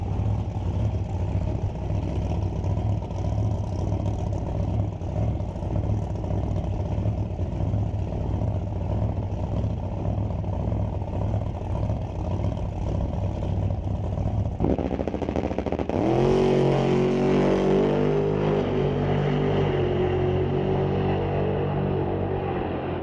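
A 656-cubic-inch, 3,000-horsepower drag racing car runs at a street-legal drag strip, a steady loud engine drone that suddenly swells into a harsher, higher roar partway through, with no talk.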